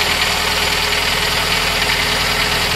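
Car engine fitted with an Aisan carburetor idles at high RPM, a loud, close, steady mechanical drone with a constant buzzing vibration and no pauses.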